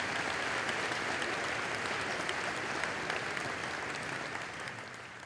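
An audience at a high school graduation ceremony applauds students in a thick, continuous wash of clapping that slowly fades toward the end.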